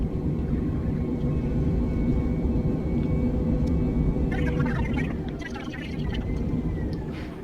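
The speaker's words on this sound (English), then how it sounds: "This is Microsoft Flight Simulator inside the cockpit." Aircraft cockpit sound in the game Microsoft Flight Simulator, a continuous low engine drone with a brief burst of higher rattling near the end, under a voice talking.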